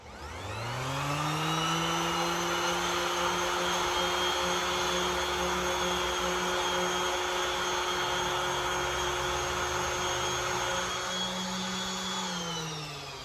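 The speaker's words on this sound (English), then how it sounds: "Let's hit it with the Orbital Sander." An orbital sander works on aluminum, spinning up at the start into a loud, steady whirring drone that holds evenly and then winds down near the end, heard alone without talk.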